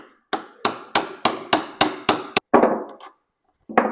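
A hammer drives a socket down onto a bolt during transmission work on a 1926 John Deere Model D tractor. Eight sharp, evenly spaced metallic blows ring out close by, followed by a couple of heavier, ringing strikes, with no voices.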